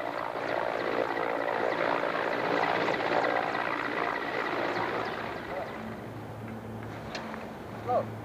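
A helicopter drones steadily overhead during cosmonaut recovery training, a loud continuous rotor-and-engine roar that eases slightly toward the end, with a voice speaking over it.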